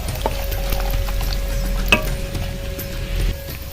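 Peanuts fry in hot oil for a lemon rice tempering, a steady close crackle and sizzle with one brief clink of a utensil midway, and no voices.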